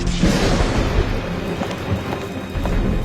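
Thunder from a lightning strike on a mast-top ball, a continuous loud rumbling roar with rain-like hiss throughout and no distinct crack, steady for a few seconds.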